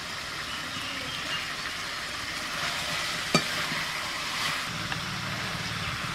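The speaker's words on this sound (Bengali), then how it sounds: "মাংস, এঁচোড়, আলু, মশলা সব একসঙ্গে কষাতে কষাতে" Meat, jackfruit, potato and spices sautéing together in a pan, a soft steady sizzle with a faint low hum beneath and one brief scrape or clink midway.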